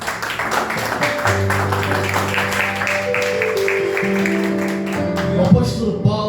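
Rhythmic clapping from a church congregation, steady and continuous, over sustained keyboard chords filling the room.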